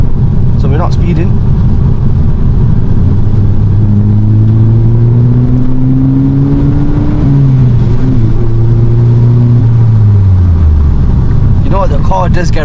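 Stock VW Golf GTI floored at full throttle on a late-night road, engine note climbing steadily through the revs and shifting gear midway, loud and close from inside the cabin, with a brief voice at the start and end.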